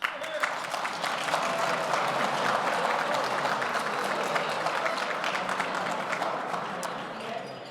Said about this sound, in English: Audience members, please applaud after everyone's name has been called.